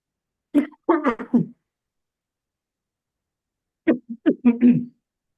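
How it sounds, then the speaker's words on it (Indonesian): Two short bursts of coughing separated by a few seconds of silence, close to the microphone, each a quick cluster of rough throaty hacks. "Sorry, saya mau batuk sebentar."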